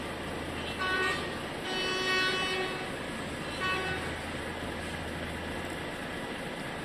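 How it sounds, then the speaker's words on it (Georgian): Vehicle horns sound at the Dover ferry port while traffic waits to board for Hoek van Holland: three tonal blasts, one short, one longer and one brief, over a low steady engine hum. "ჩემს ვიდეოში მე მგონი პირველად გაიგეთ სიგნალი"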